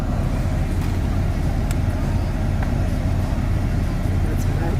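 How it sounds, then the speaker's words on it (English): A freshly replaced car A/C blower motor runs at a strong, steady, even roar with no rattles or surges, a constant close whoosh of air throughout. "And now the blower motor's in. It's blowing strong and quiet."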